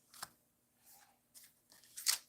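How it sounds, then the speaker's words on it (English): Playing cards shuffled at a tabletop baseball game, heard as a few short, crisp riffling bursts with quiet gaps, ending in a louder flutter near the end. "We're going to do some card shuffling here."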